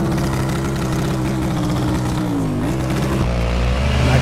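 A Yamaha MT-07 motorcycle with a pre-cut exhaust accelerates hard on an open road at sunset, a loud, close, raspy engine roar climbing in pitch with a gear change near the end and no talk.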